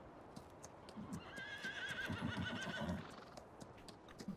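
A horse in the video game Farming Simulator 19 gives a clear, drawn-out whinny over a steady clip-clop of hooves, heard quietly and close with no talk.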